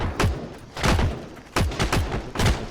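Gunfire from the PC shooter Heroes & Generals rings out in four loud, close bursts, each a quick cluster of sharp shots with short pauses between.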